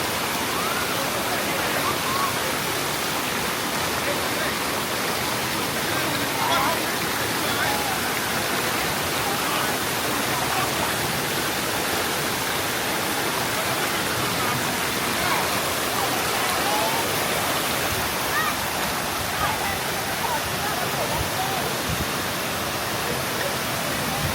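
Waterfall water flowing at a Thai waterfall, a loud, steady broadband rush that stays continuous and close for the whole stretch, with no talk heard over it.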